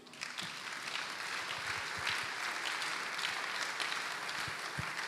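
A church congregation at a Sunday service applauds steadily and loudly throughout, with a dense, continuous clapping texture and occasional low thumps, and no talk over it.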